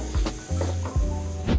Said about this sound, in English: let the beef sit in there and cook for a little bit before we start stirring